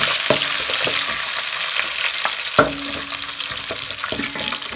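Curry leaves frying in hot oil in a pan for a vegetable curry, a steady loud sizzle with scattered clicks and scrapes of stirring, one sharper knock midway, no talk.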